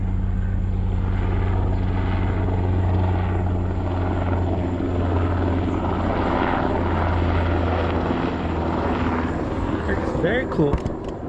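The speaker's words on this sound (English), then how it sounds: "Helicopter." A helicopter drones steadily overhead with a low rotor thump throughout, loud and close, while people talk quietly beneath it.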